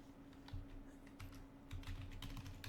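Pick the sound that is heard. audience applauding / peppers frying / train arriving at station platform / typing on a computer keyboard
typing on a computer keyboard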